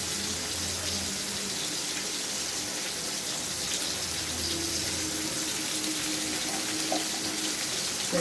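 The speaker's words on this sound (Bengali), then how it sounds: "তেলটা গরম হয়ে গেছে, তেলটা দিয়ে দিতেছি পরিমাণ মতন।" Oil is poured into a hot pan for a fish curry, giving a continuous hissing, gushing wash with a faint low tone, steady and close for the whole stretch, with no talking.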